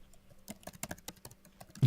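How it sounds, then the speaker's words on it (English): Typing on a computer keyboard, heard as a quick, irregular patter of light key clicks for a couple of seconds, close but fairly quiet, ending with a heavier thump. "Y'all hear her typing?"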